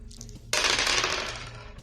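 Two dice rolled for a tabletop game, a sudden loud clatter that starts partway through and rattles on, slowly fading.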